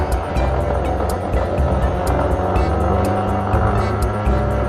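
A Yamaha NMAX 155 scooter engine runs with a steady, loud low rumble and a continuous mechanical drone throughout, close to the microphone, with no one speaking.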